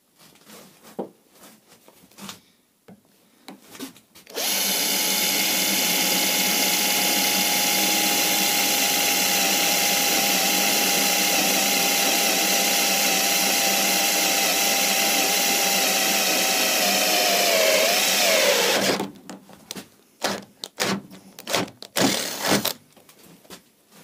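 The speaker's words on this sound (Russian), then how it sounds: "Сейчас я вам покажу, как это сверло сверлит." A power drill grinds steadily through steel for about fifteen seconds, loud and continuous, with a brief pitch dip near the end before quiet clatter.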